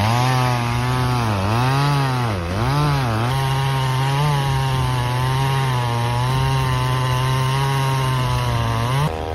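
A big chainsaw roars while cutting into a large tree trunk, its high, buzzing whine dipping and recovering several times early on as the chain bites into the wood, then holding a loud, steady pitch alone.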